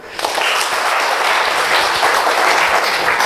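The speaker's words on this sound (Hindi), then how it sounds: "चलिए फिर बत्रा जी के लिए एक बार ताली मार दो यार।" Applause from an audience at a motivational talk during an herbal company's anniversary celebration, a dense, steady wash of many hands clapping at once, loud and sustained throughout with no pauses.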